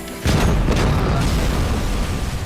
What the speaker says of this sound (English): That was quite a big explosion.